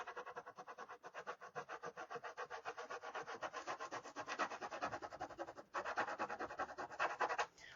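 Steady back-and-forth rubbing on a wooden sign to take its letters off, a brisk rhythmic scrubbing that runs close and continuous, with a brief pause near the end before it starts again.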